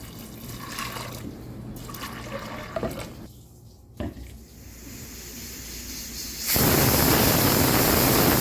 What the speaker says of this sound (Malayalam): ഇനി ഇതിലേക്ക് വേവാൻ ആവശ്യമായ വെള്ളം ഒഴിച്ചു കൊടുക്കുക